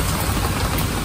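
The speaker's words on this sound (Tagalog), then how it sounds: "Umulan ulit." Rain falls steadily, making a dense, even hiss of drops for a short moment.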